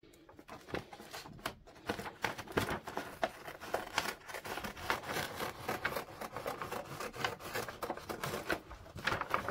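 Cutting radiator reflector sheet material to width, close dense crinkling and rasping strokes with irregular bursts of snipping and rubbing, steady through the whole stretch.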